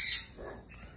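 Birds squawk briefly and close by in a loft full of pigeons, with one sharp call followed by softer chirps within a second.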